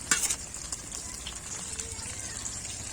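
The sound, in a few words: frying egg and milk batter snack in a pan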